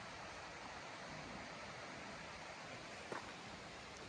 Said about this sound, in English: you could actually hear the creek